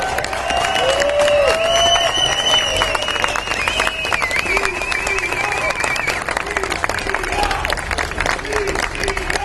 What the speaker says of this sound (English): Let's give them a huge cheer.